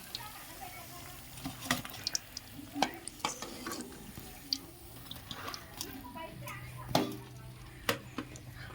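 Green chilli bajji frying in hot oil, a soft steady sizzle with scattered sharp clicks and utensil taps, while people talk nearby.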